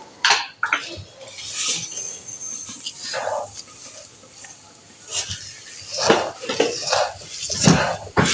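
Thick gond ka halwa mixture being stirred in a pan, with intermittent scraping and clinking of a spoon against metal, soft and irregular, with brief quiet stretches between strokes.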